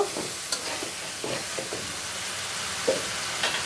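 Heads being sautéed in a pan give a steady close sizzle, broken by several soft scraping stirs and small clinks spread through the stretch, with no voices.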